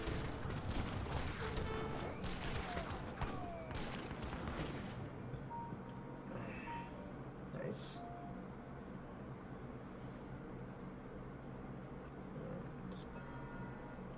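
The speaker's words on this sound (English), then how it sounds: "that's supposed to be cannon for shot, which is like a giant shotgun blast from a cannon" Cannons in Age of Empires III fire canister shot, a dense crackling barrage of blasts in the opening seconds that fades into quieter battle ambience.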